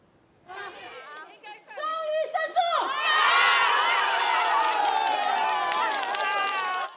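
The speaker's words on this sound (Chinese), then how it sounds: "RCA 关怀协会的成员大声欢呼" Members of the RCA workers' care association cheer loudly after a Supreme Court ruling. Scattered shouts and chatter swell after a few seconds into a sustained roar of excited voices and cheering.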